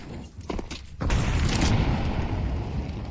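A grenade detonates in Counter-Strike on the Inferno map, a sudden low boom followed by a rumbling tail that fades slowly, preceded by faint game noise.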